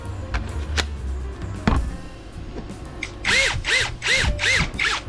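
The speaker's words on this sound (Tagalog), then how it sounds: "So ito meron din siyang hammer, meron din siyang drill at hanggang level 20 up ito yung kanyang torque" A cordless hammer drill runs in short bursts. Its motor whirs with a gritty mechanical rattle and clicks, then settles into a quick series of evenly spaced, rising-and-falling pulses. The sound is close and moderately loud, with no talk over it.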